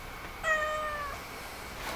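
A house cat gives a single clear meow about half a second in, fairly close and moderately loud, followed by quiet room tone with no talking.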